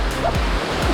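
Rushing water of a cold waterfall in Alabama, a steady broadband roar that fills the whole clip at close range, with a few faint low thumps and splashes under it.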